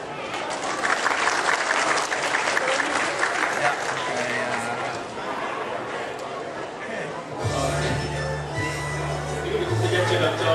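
Applause from an audience for a music group, a sustained burst of clapping with crowd chatter mixed in, joined midway by low steady musical tones as the noise continues.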